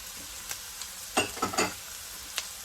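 Carrots and celery for veggie fried rice hit a hot pan with a soft sizzle, broken by a few sharp clattering bursts of stirring near the middle and a couple of lighter taps.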